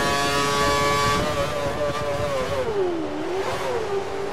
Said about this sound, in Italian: Ha impostato il motore sulla massima potenza.